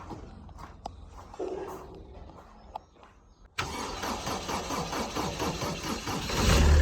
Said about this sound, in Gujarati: આ ડીઝલ એન્જિન નો પાવર સાંભળો ને